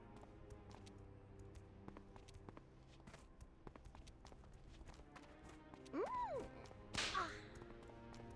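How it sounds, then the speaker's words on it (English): A whip cracks in World of Warcraft, two sharp snaps near the end following a rising swish, over a steady low game hum with scattered faint clicks and footsteps. "There's the whip noise."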